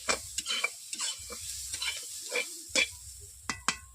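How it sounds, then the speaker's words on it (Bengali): Onions fry in a little oil in a wok, heard as a quiet sizzle under a string of sharp, close spatula scrapes and stirs in an uneven rhythm, with no talking. "তেল দিয়ে এই পেঁয়াজগুলোকে আমি ভেজে নিচ্ছি"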